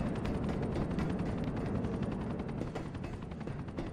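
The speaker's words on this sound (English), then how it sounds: "There's a chopper turning up." Helicopter arriving in the GTA 4 video game, a steady broadband rotor roar with dense chopping texture, loud and continuous throughout amid game action noise.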